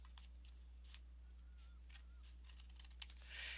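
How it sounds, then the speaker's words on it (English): Scissors snip through paper to cut a page in half, a few quiet, close crisp snips spaced about a second apart over a low background hum. "So I'm just going to cut this in half."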